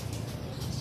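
Racing pigeons coo softly in low repeated throaty murmurs near a red building, set against faint outdoor wind and occasional wing flutters, with no talk.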